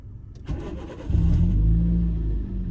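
A Nissan Micra K11 with new spark plugs cranks briefly, catches about a second later and settles into a steady, close idle rumble.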